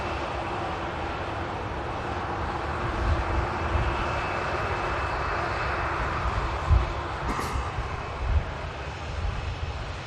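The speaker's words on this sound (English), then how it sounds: "Ryanair UK taxiing past, coming out of Terminal 3 here at Manchester Airport" A Ryanair UK jet airliner taxis out of Terminal 3 at Manchester Airport, a steady broadband engine roar with whine heard from a moderate distance, holding level throughout with small swells.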